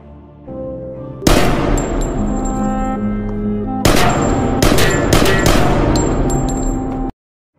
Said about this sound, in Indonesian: sehingga hal itu membuat Jasung mengambil pistol dan menembaknya untuk menyelamatkan dari apa yang akan dilakukan Yan Bianho Boss padanya